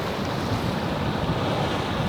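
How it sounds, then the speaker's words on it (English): Ocean waves and surf along the Baja coast of Mexico, a continuous washing roar with wind buffeting the microphone, no voices. "Look at the ocean."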